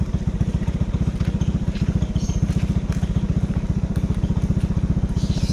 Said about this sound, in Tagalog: Nagpapainit pa ng makina.